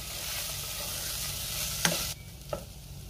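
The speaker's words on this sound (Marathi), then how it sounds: "आता आपल्याला मुगाची डाळ घालायची आहे। एक मिनिट आपण व्यवस्थित परतून घेऊया" Moong dal sautéed in a pan gives a steady close sizzle, with a couple of sharp spatula scrapes and a sudden drop in level partway through.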